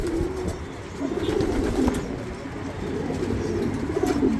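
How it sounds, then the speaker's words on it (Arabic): A super-jumbo pouter pigeon cooing up close, with repeated soft, throaty rolling coos at an uneven rhythm, loud and without speech. "ده فرد حمام نفاخ"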